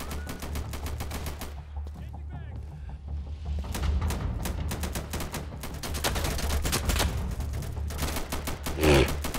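Gunfire in the video game Insurgency, including an M249 SAW, with dense repeated shots and bursts running through the whole stretch under steady talk, plus a louder close shot near the end.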